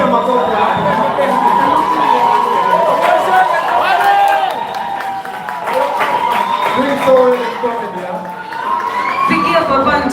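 Crowd cheering and applauding at the Gusii Creative Awards 2020 ceremony, a loud sustained mix of clapping, shouting and chatter that holds steady through the whole stretch with slight dips.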